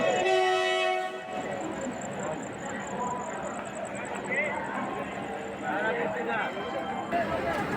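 A New Delhi express train rolls slowly into a station platform at Prayagraj Junction, with steady rail rumble and a long high whine or horn, while people talk over it.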